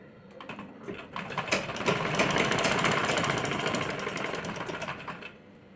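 A sewing machine runs steadily for about four seconds while stitching a blouse, a close, continuous whirring buzz that starts up after a few faint clicks and stops cleanly, with no voices.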